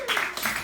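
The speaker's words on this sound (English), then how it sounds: "you need to applaud if I'm getting a medal" Audience applause at a London stand-up comedy show, a short burst of clapping with a voice speaking over it.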